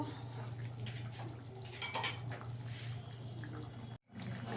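A cooking pot of bora and potol curry is covered with its lid after the gas is shut off, a brief close metallic clatter over a low steady hum, then a short silence.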